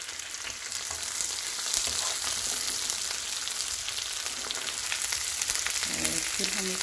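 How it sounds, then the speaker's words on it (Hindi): Okra (bhindi) frying in a pan with a little oil, a bright continuous sizzle with crackling spatter close by, steady throughout, with a brief stir near the end. "अब हम इसमें भिंडियाँ डालेंगे"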